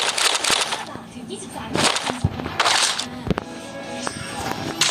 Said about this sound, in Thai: เจ้าของเสียงปืน